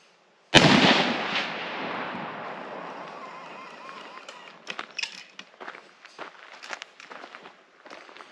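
A single loud gunshot cracks close by and rings out in a long decaying echo, followed by scattered lighter knocks and handling sounds.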